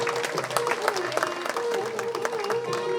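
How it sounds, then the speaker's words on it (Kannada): An audience applauds award winners at a lifetime achievement award ceremony, a dense, steady clapping that carries evenly throughout with a continuous tone running beneath it. "ತಮ್ಮೆಲ್ಲರ ಅಭಿನಂದನೆಯ ಪ್ರೀತಿಯ ಚಪ್ಪಾಳೆ ಎಲ್ಲ ಸಾಧಕರಿಗೆ"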